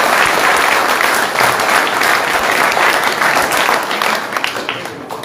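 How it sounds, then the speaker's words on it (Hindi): A large crowd at a rural village political rally in Haryana breaks into sustained loud applause for a Rajasthan farmer leader, dense clapping that holds steady before tapering off near the end. "तालियों से"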